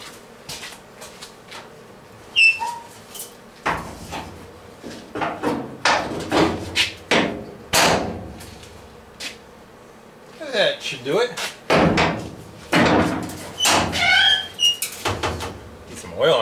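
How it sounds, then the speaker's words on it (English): A truck tailgate swings on dry sandblasted hinges, giving repeated loud squeaks and metallic creaks in irregular bursts, close by, with someone talking between them. "Need some oil on those sandblasted hinges, huh?"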